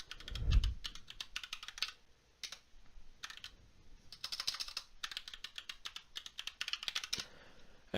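Typing a new password on a computer keyboard in a bash shell, bursts of rapid close key clicks separated by short pauses, with a soft thump at the start.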